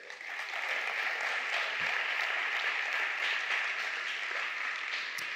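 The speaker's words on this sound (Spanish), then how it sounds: "Dale un aplauso al rey." A church congregation applauds in a steady, even stream of many hands clapping, moderately loud and unbroken for several seconds.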